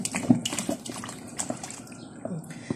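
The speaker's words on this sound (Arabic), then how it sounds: "بسم الله هزود ميه علشان انا هحتاج الميه دي زي ما قلت لكم للرز" Water poured into a cooking pot for rice, a gushing, splashing stream heard close by, with clatter and a voice speaking over it.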